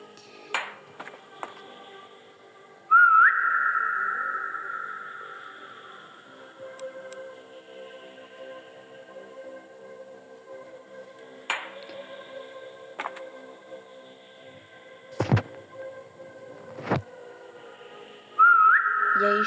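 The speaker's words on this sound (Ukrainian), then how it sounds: "ще посвистю" A person whistles a long, steady, high note, then a second short whistle later, with scattered clicks and taps in an otherwise quiet room.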